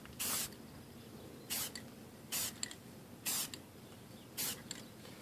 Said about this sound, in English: It's actually spraying kind of a bit more than I expected to.